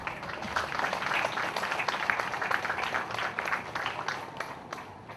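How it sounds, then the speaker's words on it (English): A crowd at an Independence Day fair in Palau breaks into a sustained burst of applause, a dense outdoor patter of clapping that runs at an even level for several seconds. "Let's give the Palauans a round of applause."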